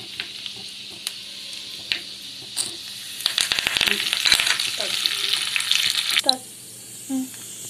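Curry leaves dropped into hot oil for a tempering sizzle and crackle sharply, with scattered pops building into a dense burst midway before easing off, close and loud in a home kitchen.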